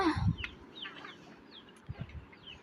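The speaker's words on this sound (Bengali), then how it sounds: "এই যে দেখেন তাদের সেই লাল মুরগিটা" A red hen clucks a few times close by, with faint chirps of small chicks and rustling around it and quiet gaps between the calls.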